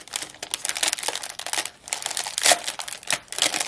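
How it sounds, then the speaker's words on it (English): Crinkly plastic packaging from a happy mail bag is handled up close in bursts of loud crackling and rustling, pausing briefly between grabs, with no talking. "do you love the sound of the crinkly packaging?"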